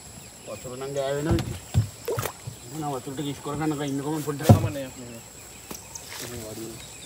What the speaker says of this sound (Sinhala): වැවක යන්න සෙට් වුණා ඔන්න. ඔරුවක නැගලා යන්න.